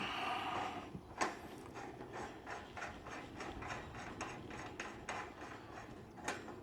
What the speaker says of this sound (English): So the valve is the screw-on type valve for the gas cans. And you just screw it in.